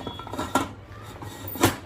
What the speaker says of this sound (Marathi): पंचेचाळीस मिनटांनी मी हे कुकरचे झाकण काढून बघत आहे